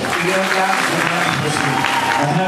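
Church congregation clapping during a Swahili worship service, a dense, steady wash of applause filling the whole moment, with voices mixed into the crowd noise.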